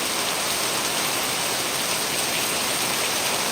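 Heavy monsoon rain pours down in Kerala as a steady, loud, broadband hiss that stays constant from start to finish, with no voices or other sounds breaking through.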